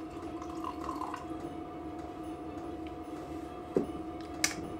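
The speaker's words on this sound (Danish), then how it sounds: "Og jeg kan hælde op for mig." A second cup of hot coffee is poured, a continuous near trickle of liquid over a low hum, ending with a couple of sharp knocks like a pot or cup being set down.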